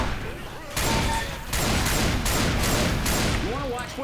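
Loud repeated gunfire in the zombie shooter Left 4 Dead, several heavy bursts in quick succession, with a player's voice audible at the edges.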